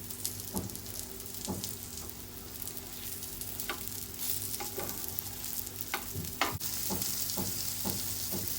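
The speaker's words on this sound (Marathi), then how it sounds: "आता आपले वांगी फ्राय झालेले आहेत" Brinjal slices coated for a rawa tawa fry sizzle softly in a pan, a steady close hiss with occasional light clinks and scrapes of a utensil turning them, no voices.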